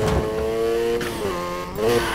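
A car drifting in Need for Speed Heat, loud revving engine with tonal tire squeal rising and falling in quick sweeps, close and continuous without voices.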